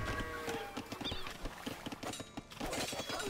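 In an Age of Empires match, scout cavalry horses trot with rapid, overlapping clip-clop hoofbeats and a whinny, loud and busy over the game's background sounds.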